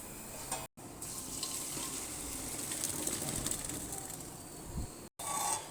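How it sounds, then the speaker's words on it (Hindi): Water draining off boiled rice being prepared for Sindhi biryani, a steady continuous splashing rush that holds at an even level, with brief silent cuts near the start and end. "अब हम इसका पानी ड्रेन करते हैं।"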